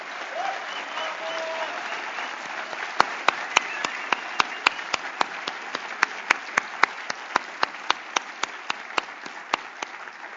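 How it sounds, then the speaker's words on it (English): Sustained applause from the audience at an association's annual general meeting, honouring the organising committee and staff, with a few sharp, evenly spaced individual claps standing out close by above the crowd. "So I would like to ask you a big applause for all of them that are behind the scenes today."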